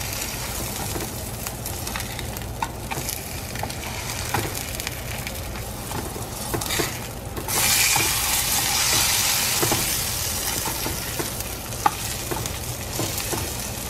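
An egg and sausage fry in a pan for a keto breakfast sandwich, a steady close sizzle broken by scraping and tapping of a utensil, with a louder hissing surge partway through.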